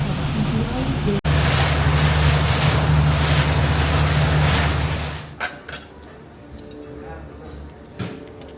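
Seine river cruise boat on a hot day in Paris, with a loud steady engine rumble and rushing wind for several seconds that abruptly drops to a quieter open-water ambience with a few faint knocks.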